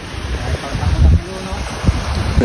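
Large sea waves wash and churn along a beach, a continuous rough rumble blended with gusty wind buffeting the microphone, with a few heavier surges and faint voices in the background.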